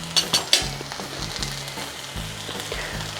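Chili powder and Kashmiri chili powder sizzle in hot oil in a pan for Kerala mackerel curry. The frying hisses steadily over a low pulsing hum, with a few sharp clinks of a spoon at the start.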